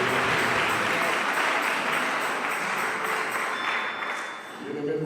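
A church congregation applauding and acclaiming during a gospel service, a dense steady wash of clapping with voices mixed in, fading slightly near the end.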